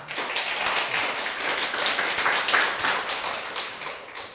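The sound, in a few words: audience clapping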